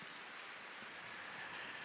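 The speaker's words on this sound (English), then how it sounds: "And the rain which you hear now is the constant watering of it" Steady rain forms a soft, even hiss that stays constant and faint throughout, with no distinct drops or other sounds standing out.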